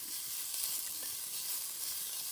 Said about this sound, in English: I'll do the same now with the garlic and the onion.